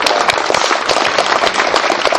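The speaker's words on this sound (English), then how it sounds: "Janice deserves a round of applause" An audience at a political lunch fundraiser in Westlake Village, California claps in a dense, continuous patter of many hands, loud and close, with no voices.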